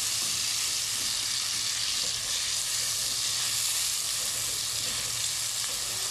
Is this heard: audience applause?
no